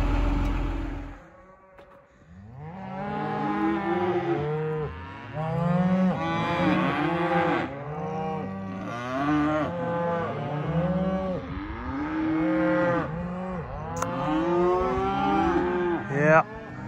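Cattle on a farm at night moo loudly and repeatedly, with many long, drawn-out calls overlapping one another at close range and barely a pause between them.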